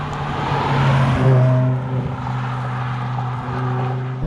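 A 550 BHP BMW E60 M5, running on E85, gives a deep, loud engine drone with strong low tones that swell briefly and then settle into a steady hum.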